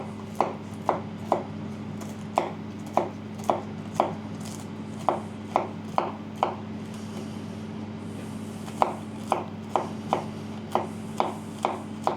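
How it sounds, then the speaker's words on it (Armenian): Walnuts being chopped with a knife on a cutting board, a steady run of sharp, close knife strikes repeating at an even rhythm over a low constant hum, with no talking. "Հիմա ես ընկույզը կտրատեմ"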